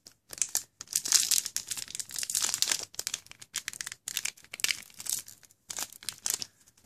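A Force of Will trading card booster pack is pulled open by its tab, giving repeated crisp crinkling and tearing of the foil wrapper in close, uneven bursts.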